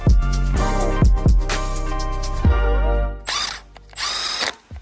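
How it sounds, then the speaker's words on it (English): A power tool driving bolts into the front cover of a Honda Jazz engine, with several short loud whirring bursts and ratcheting stops close by, then a pair of harsher buzzing runs, with no talking. "then I could line up the front cover and bolt it back on"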